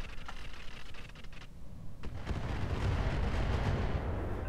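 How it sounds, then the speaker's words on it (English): Weapons fire and explosions from a Roguetech mech battle: scattered sharp shots early on, then a heavy, sustained rumbling barrage building loud and continuous toward the end. "he's shooting at the yellow jacket"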